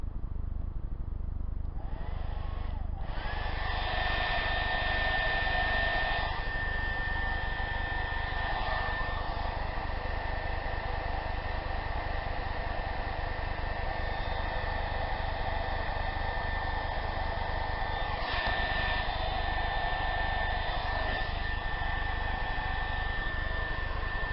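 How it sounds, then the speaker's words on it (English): A hair dryer runs on high, a steady loud whooshing blow with a whine, continuing throughout with small shifts as it is moved. "turn that blow dryer all the way up"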